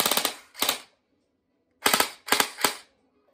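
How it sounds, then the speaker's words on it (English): An M4 Golden Eagle airsoft gun fires close and sharp in brief bursts: a short rapid cluster, a single crack, then three more bursts of quick snapping shots separated by silence. "Let's semi, and then again full auto if you guys can hear it."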